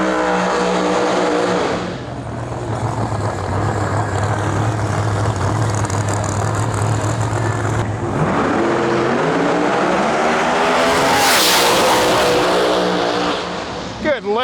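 A Pro Mod drag race car at a qualifying event makes a full pass, the engine droning loudly, then surging and rising in pitch before cutting off near the end, with commentary running over it.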